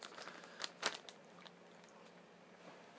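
Crunchy bites and chewing of canned salmon with bones and skin, eaten from a ziplock bag; a few sharp close crunches early on, then quieter mastication trailing off.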